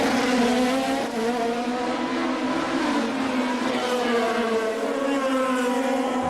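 Formula 3000 race cars at Monaco in 2002, a loud, near engine howl with rising and shifting tones, sustained throughout, with faint commentary underneath.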